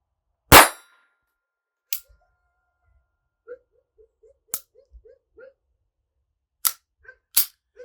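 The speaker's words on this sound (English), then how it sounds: "And that one chambered 5 shots at the target, steel target with the Aguilas." A 1959 Beretta 950B pistol firing .22 Short Aguila rounds at a steel target: five sharp shots spread irregularly, loud and close, each followed by a faint metallic ping from the steel.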